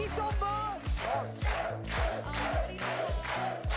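A French television studio audience at a children's entertainment show cheers and shouts loudly in a sustained roar, with rhythmic chanting or clapping pulses running beneath, a host's voice occasionally rising above the crowd.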